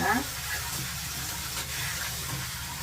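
Tap water runs steadily while freshly picked garden chives are rinsed, producing a constant soft hiss with light splashing throughout.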